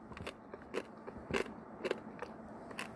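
Bites into a crunchy Dubai chocolate bar give off a few sharp, close crackling crunches spread across a few seconds, with no talking over them.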